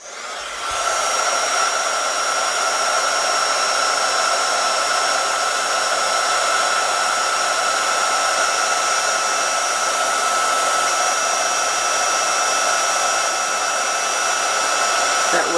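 A heat tool blowing hot air to melt gold embossing powder on a Christmas card, a loud continuous whooshing hum that starts after a short pause and holds steady throughout.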